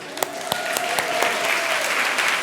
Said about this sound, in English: give your group a round of applause